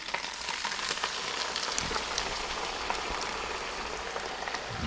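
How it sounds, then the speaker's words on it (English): Sauce goes into a hot pan of Mongolian beef, raising a loud, dense, even hiss that stays steady throughout. "now we're gonna put the sauce in"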